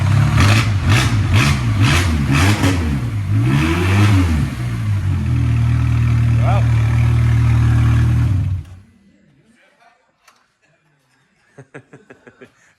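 A Classic car's engine cranks and fires up, revving loudly with rising and falling pitch for about eight seconds before cutting off, followed by quiet and a few faint knocks; voices chuckle nearby.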